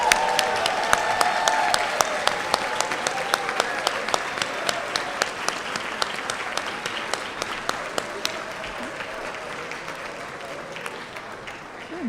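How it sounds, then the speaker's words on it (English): A banquet crowd gives steady applause for retiring employees, with close individual claps ringing out sharply over the wash of clapping and faint background chatter, gradually easing off over about twelve seconds. "please join me in one more round of applause for all of our retiring employees"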